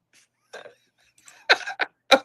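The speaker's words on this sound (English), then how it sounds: "I was blowing my nose." A person blows their nose in a few short, breathy bursts, the last ones loud and close, with brief quiet gaps between them.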